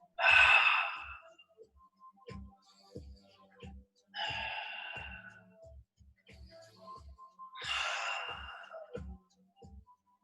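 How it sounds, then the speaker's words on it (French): Slow, controlled breaths during a pilates session, three long audible exhales spaced a few seconds apart with softer inhales between, close and clear in a quiet room. "Je vais donc ici inspirer et expirer."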